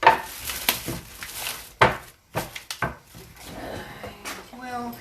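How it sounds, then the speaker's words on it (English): Pots and pans clatter in a home kitchen as a pot of potatoes is set on to boil, with several sharp metallic knocks and scrapes, then a short run of rhythmic tapping near the end. "Now, I'm going to put the potatoes on to boil really quickly."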